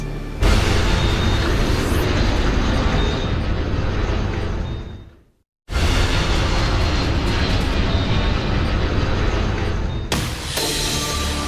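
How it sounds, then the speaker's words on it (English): A small Cessna plane spirals to the ground after a midair collision with a 727 over San Diego in 1978, heard as a loud, steady roaring rumble that cuts out briefly around the middle and resumes, with no talk. "An NBC News crew captures a small plane spiraling to the ground after it has collided half a mile up with a much larger 727."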